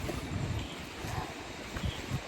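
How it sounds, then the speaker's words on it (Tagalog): Sea waves wash at a beach in Bolinao as a soft, continuous rushing hiss with gentle swells, fairly faint and carried along with light wind. "Ang sarap ng tunog ng alon ng dagat."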